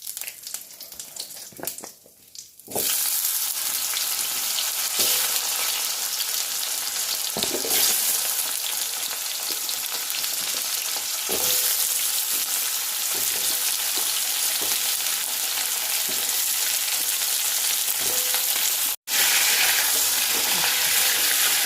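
Loud, steady frying hiss as cumin, bay leaves and elephant foot yam fry in oil, after a brief quieter start, with scattered clinks and stirring scrapes and a sudden momentary dropout near the end.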